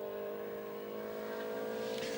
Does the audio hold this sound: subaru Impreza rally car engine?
yes